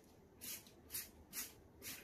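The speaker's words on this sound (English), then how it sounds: "It's hard to spray when you're tilting your water bottle." A tilted water spray bottle misting onto wet paper towel over a painting, four evenly spaced sharp hissing spritzes, close and quiet, each a brief puff with short pauses between.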